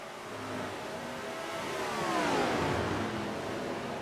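Stock cars race in the NASCAR Racing 2003 game, a mid-pitched engine drone swelling as a car passes close by and then fading, sustained and fairly loud, with no talking over it.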